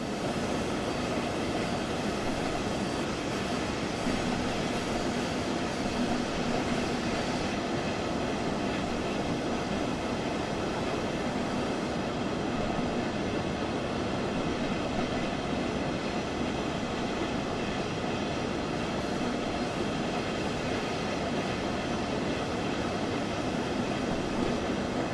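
A Dresden tram rolls steadily through the Train Sim World 2 game, a continuous close rumble of wheels and motor running loud and unbroken with no talk over it.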